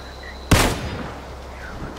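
A single sharp gunshot in the PUBG battle royale game, a loud close crack with a short decaying tail against quiet background ambience.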